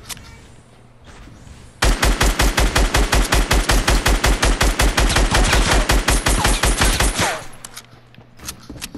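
Tommy gun fired in Fortnite: a loud, rapid automatic burst of evenly spaced shots lasting about five seconds, with quieter game ambience before and after.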